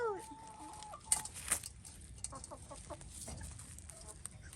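Backyard chickens cluck in short soft bursts with a few higher squawks, fairly close but quiet, the calls scattered irregularly over a faint background.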